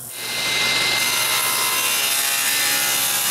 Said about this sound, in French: je coupe tous les blocs de guides de lame